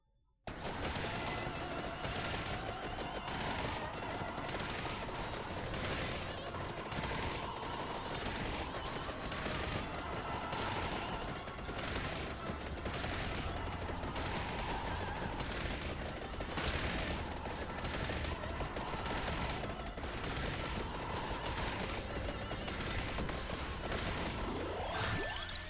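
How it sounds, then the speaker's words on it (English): Explosions in the Vampire Survivors video game, a dense, continuous barrage of rapid bursts and crashes repeating in quick rhythmic waves for the whole stretch, loud and relentless. "So many explosions."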